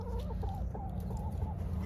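A hen with damaged wings clucks close by, giving a run of short, repeated, nasal clucks over a steady low rumble of background noise, with no one talking.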